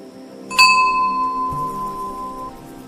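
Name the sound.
bell being rung softly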